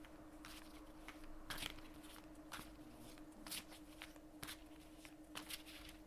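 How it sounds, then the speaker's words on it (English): Tarot cards are shuffled in a quiet room: repeated riffling bursts and soft slaps arrive every second or so, close by, over a faint steady hum. "just shuffle the cards to start off with."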